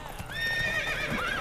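A horse in The Witcher 3 lets out a loud, drawn-out whinny over faint hoof thuds, heard briefly and up close.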